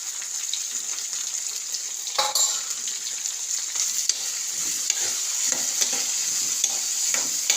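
Ivy gourd (tindora) frying in oil in a pan while being stirred, a steady soft sizzle with scraping stir strokes and small clicks throughout, close and moderately loud, with no talking.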